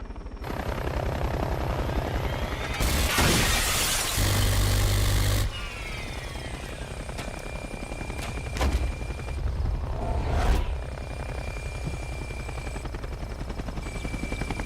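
A helicopter in the video game Saints Row 2 drones steadily with a whirring engine, swelling into louder rushing bursts of impact noise midway and again later, alone without talk.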